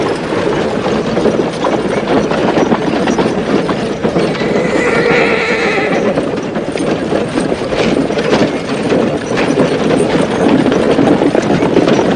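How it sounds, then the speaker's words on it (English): Horses neigh and whinny amid steady clip-clopping hooves in a western action scene, a loud continuous bed of animal sound with a prominent whinny midway. "Horses are there."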